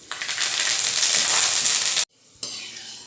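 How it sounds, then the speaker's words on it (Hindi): Curry leaves frying in hot oil give a loud, dense, steady crackling sizzle that cuts out briefly and then resumes slightly softer. "अब हम 2 करी पत्ता को फ्राई करेंगे।"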